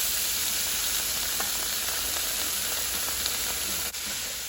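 Cabbage goes into a pan of frying chicken, and a loud, steady sizzle fills the scene with faint stirring clicks and a brief knock near the end, no voices.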